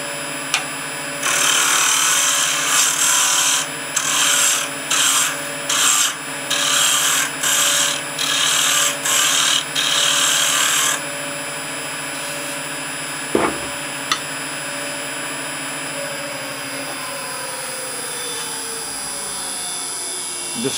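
Wood lathe turning a small wooden peg, a steady motor hum with a tool scraping the spinning wood in repeated bursts, then the cutting stops and the machine winds down.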